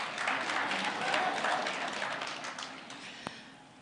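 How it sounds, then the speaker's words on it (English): Conference audience applauding at a national professional gathering, a dense even wash of clapping that gradually thins and fades toward the end, with a single sharp knock near the close. "yes, you can clap, this is the time to clap"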